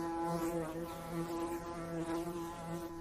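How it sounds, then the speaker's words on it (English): A bee buzzes steadily and loudly up close, a continuous droning hum with slight wavering in pitch, heard alone without talk. "Just a bee looking for water and food."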